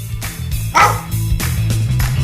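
A sharp dog bark used as a quiz buzzer, a single loud close bark over a steady low hum.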